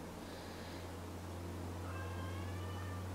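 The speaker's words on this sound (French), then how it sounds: "Ah, mon chat m'appelle." A domestic cat meows indoors, with a short call followed by a longer drawn-out meow, faint and somewhat distant over a steady low hum.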